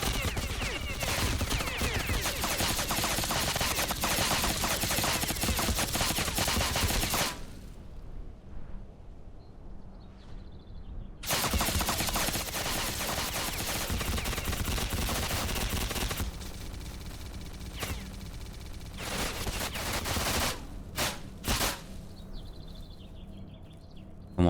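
Heavy machine gun fire in the video game STALKER Clear Sky rattles in long, loud, dense bursts, broken by a few seconds of near silence and later by short, choppy volleys.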